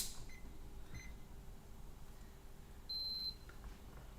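A meter on continuity test emits short, faint electronic beeps while checking the outputs of a motor driver on a workbench, one slightly longer tone near the end, in a quiet room with no talk.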